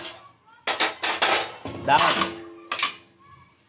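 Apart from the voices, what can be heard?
pots and utensils clanking while making punugulu fritters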